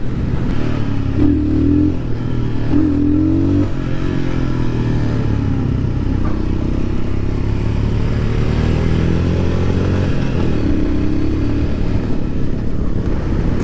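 A Royal Enfield Scram 411 motorcycle accelerates through the gears, its engine note climbing, dropping at shifts and rising again, loud and close throughout with wind rumble underneath.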